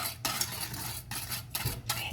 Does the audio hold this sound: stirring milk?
yes